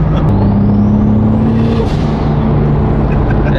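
A loud Mk4 Toyota Supra engine, a big-turbo 2JZ, roars close by, with a steady whining tone riding over the rumble, briefly swelling then holding.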